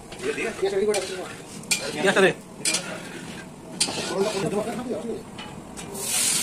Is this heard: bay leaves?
yes